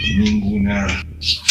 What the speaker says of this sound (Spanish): Ese fue mi gato.